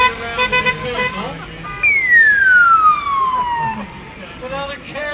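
A police car siren at a Brooklands emergency vehicles day gives one loud descending wail lasting about two seconds, set among busy crowd noise and voices.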